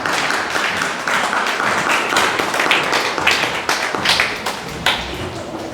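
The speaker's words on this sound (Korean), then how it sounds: "큰 박수 다시 한번 보내주시기 바랍니다" A church congregation at an Easter Sunday service claps for the special Easter choir, a dense and continuous patter of many hands, close and fairly loud throughout.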